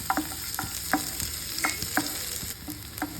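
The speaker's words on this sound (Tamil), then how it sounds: "கொஞ்சம் எண்ணெய் விட்டுக்கலாம் வெங்காயத்தை போட்டு வதக்கிக்கலாம் பூண்டையும் ஆட் பண்ணிக்கலாம்" Onions and garlic frying in oil in a hot pan for horse gram chutney, a soft sizzle under repeated scraping stirs from a spatula at an uneven rhythm, close by and fairly quiet.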